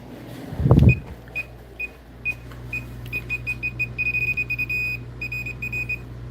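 A high electronic beeper from a Klein circuit breaker finder chirps in short pulses, sparse at first and then faster in quick runs, after a brief thump at the start.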